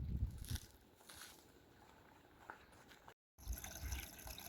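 A small water source trickles near a trail shelter, a faint, quiet dribble and splash of running water with a few low thumps, heard briefly after a short gap.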